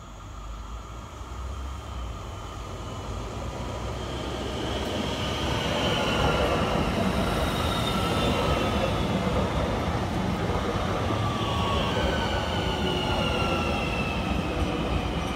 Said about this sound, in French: Encore un train en approche, voie une.